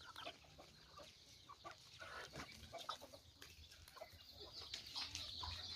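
Hens cluck and chatter on a small poultry farm, a busy flock of overlapping calls and short squawks, faint but continuous, with no talking.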